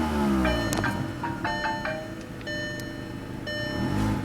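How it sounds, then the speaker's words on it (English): A phone rings near a 2007 Volkswagen City Golf idling with its door open, repeated electronic tones sounding in several short bursts over the steady low engine rumble. "That's my phone ringing."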